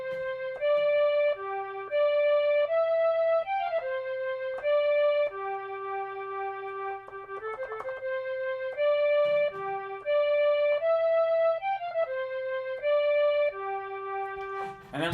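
Strings voice on a Yamaha PSS-14 keyboard plays a simple melody of sustained single notes over a low steady drone, moderately loud and close with no talking.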